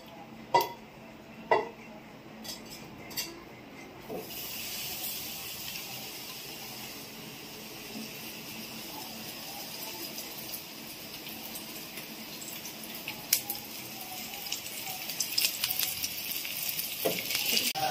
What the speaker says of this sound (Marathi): हे बांगडे मी तांदळाच्या पिठात घोळवतोय आणि तेलात सोडते.